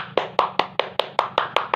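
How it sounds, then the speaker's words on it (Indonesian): A classroom group applauds on a teacher's request, about nine sharp, evenly spaced claps in a steady rhythm, close and clear with no talk over them. "tepuk tangan untuk kita semua"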